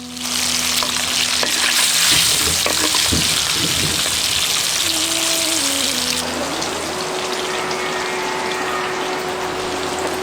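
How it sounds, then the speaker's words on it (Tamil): Boiled eggs fry in hot oil with turmeric and salt, a loud, dense, continuous sizzle with some stirring clatter, settling into a slightly softer crackle partway through. "கொஞ்சம் எண்ணெயில வேக வச்சிருந்த முட்டையோட கொஞ்சம் மஞ்சத்தூள், உப்பு சேர்த்து பொரிச்சு எடுத்துருவோம்."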